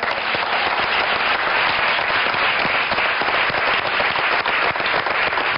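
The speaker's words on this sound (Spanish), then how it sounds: "¡Que no pare el aplauso por Janet, por favor!" An audience applauds continuously, dense rapid clapping filling the space at steady volume from start to finish.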